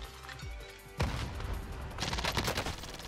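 Rapid video game gunfire in a Warzone match, sharp bursts of automatic shots close and loud, with a heavy volley starting abruptly and continuing in dense repeated cracks.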